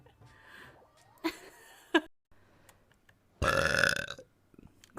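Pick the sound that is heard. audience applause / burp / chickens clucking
burp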